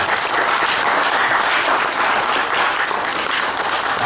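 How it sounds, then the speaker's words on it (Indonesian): Steady, dense applause from an audience at a volunteer day event held by KSR Batamindo, loud and continuous throughout with no voices on top. "Iya, tepuk tangan dong."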